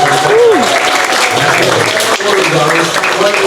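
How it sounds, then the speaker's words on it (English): Audience applause at an after-hours theme park event, steady dense clapping from a crowd running through the whole moment, with a voice speaking briefly over it. "Can we have a round of applause for that?"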